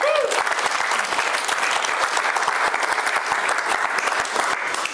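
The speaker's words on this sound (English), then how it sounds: "Give Chris a big round of applause." Audience applause following a parlour magic trick, a steady dense round of clapping that stays loud and even for the whole stretch before tapering slightly at the end.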